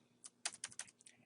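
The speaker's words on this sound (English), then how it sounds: "once I start typing these" Short burst of typing on a computer keyboard: about six quick, crisp key clicks spread unevenly over a second, close and fairly quiet, with no voices.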